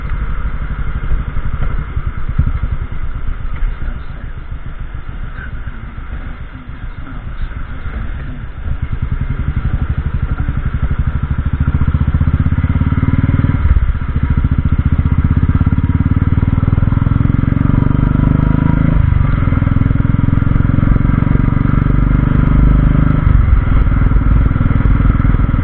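A Royal Enfield 350 Classic fitted with a Red Rooster performance exhaust thumps with a deep, steady single-cylinder beat, riding along a wet road with the engine note rising and falling through gear changes, close and loud throughout.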